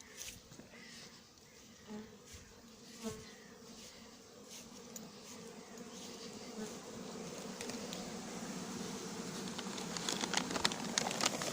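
A swarm of honey bees being hived on a farm hums steadily around a bag, a dense, faint buzz that gradually grows louder, with scattered knocks and no talking.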